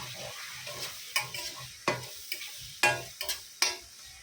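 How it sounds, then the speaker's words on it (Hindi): Onion, ginger and garlic sizzle softly in a pan while a utensil scrapes and clacks against it in irregular stirring strokes. "इसको भी अच्छे से फ्राई करेंगे।"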